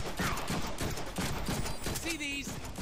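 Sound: gunfire in Deadpool video game

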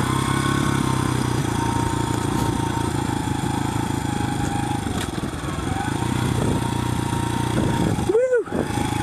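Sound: Honda CRF100F dirt bike engine riding

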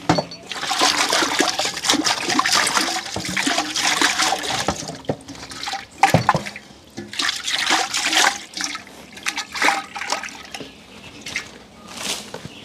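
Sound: water pouring while washing a pot

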